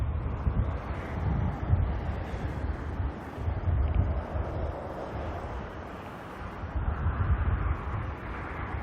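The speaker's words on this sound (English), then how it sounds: "Wind's starting to pick up a little bit again." Wind gusts across an open airport plane-spotting spot, a broad low rumble and buffeting against the microphone that swells and eases over several seconds, steady and close with no talk.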